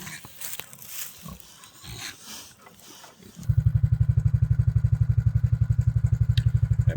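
An old quad bike bought new in 1993 and used for farm work starts up and idles on a homestead, a loud rough rapid engine putter after a few seconds of quieter background noise.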